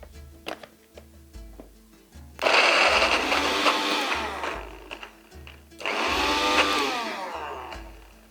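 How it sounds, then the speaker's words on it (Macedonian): A kitchen blender chops onion for a pea-patty mixture in two loud, whirring bursts of about three and two seconds, with the motor pitch shifting as it spins. A short pause separates the bursts, with quieter clatter before and between them. "Сега ќе го пуштам блендерот."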